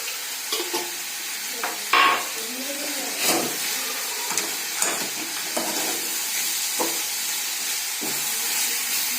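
Potato and ridge gourd pieces frying in a pan with turmeric, a steady soft sizzle broken by several scraping stirs, close by with no voices.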